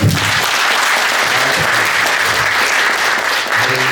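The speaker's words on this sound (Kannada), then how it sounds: "ಅದಕ್ಕೋಸ್ಕರ ಮೊದಲನೇದಾಗಿ ಅವರು ಒಂದು ದೊಡ್ಡ ಚಪ್ಪಾಳೆ" Loud, dense applause from a large audience at a Kannada talk on the Ramayana. The clapping is sustained and close, with a low murmur beneath it.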